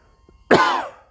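A single harsh, close cough bursts out suddenly after a near-silent moment, then trails off quickly.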